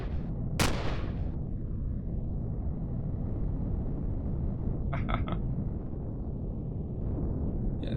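Turret gunfire in the space survival game Empyrion Galactic Survival, with one loud sharp blast near the start, a short rattling burst later on, and a steady rumbling background throughout.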